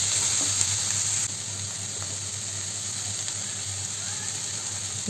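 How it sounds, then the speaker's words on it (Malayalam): Beans and carrot thoran with crushed coconut and green chillies is stirred in a pan, a steady close sizzle that is slightly louder for the first second before settling into an even hiss. "എന്നിട്ട് നന്നായി ഒന്ന് ഇളക്കി യോജിപ്പിച്ചതിന് ശേഷം ഒന്നുകൂടി അടച്ചു വെച്ച് വേവിക്കാം"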